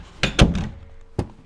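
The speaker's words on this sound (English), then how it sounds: "Kind of open the door." A door being opened during a family toy play session, heard as a few quick clunks and a thud early on, then a single sharp knock-like bump a moment later, fairly close, with no talking.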